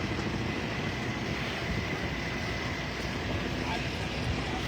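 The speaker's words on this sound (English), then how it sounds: "There is a helicopter overhead." A helicopter flies over the Florida State University campus where law enforcement has gathered after a shooting, a steady, continuous rotor and engine drone filling the air without a break.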